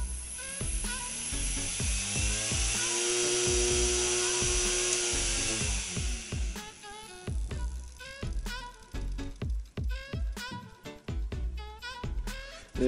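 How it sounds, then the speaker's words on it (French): An electric drill, used to spin a computer power supply fan, whines up to a steady high-pitched run, then winds down, followed by rapid clicking and rattling bursts as the motor slows. "j'ai branché la perceuse et j'enclenche"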